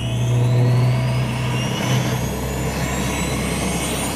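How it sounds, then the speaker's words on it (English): An engine in 30-degree cold weather that turns over but fails to catch, giving a loud, sustained mechanical whine and drone with a rising high tone, no voices. "The engine is not igniting"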